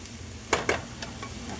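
Ground beef frying in a pan gives a low steady sizzle, with two short clattering stir strokes close by near the middle and fainter scrapes after.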